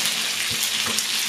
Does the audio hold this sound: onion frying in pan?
yes